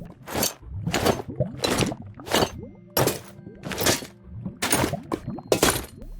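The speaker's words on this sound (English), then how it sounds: "This next mod will instead play a sound effect each time you equip or unequip any piece of armor" About eight sharp, clanky equip sounds for armor pieces from a Minecraft mod ring out in a steady, evenly spaced series, each a loud metallic clatter with a brief ringing tail.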